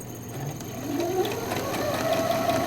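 A sewing machine stitching an even 5/8 inch seam gives a soft, steady mechanical whir that builds slightly, faint and close with no speech.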